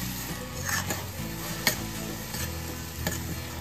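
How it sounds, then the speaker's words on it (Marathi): Pav bhaji masala stirred and mixed in a hot pan, with a soft steady sizzle under repeated scraping strokes of a spoon against the pan, close and fairly quiet. "आता याला छान आपल्याला मिक्स करून घ्यायचं आहे"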